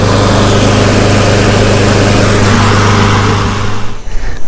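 A push mower engine runs close and loud at a steady set speed, a constant droning hum that cuts out abruptly near the end.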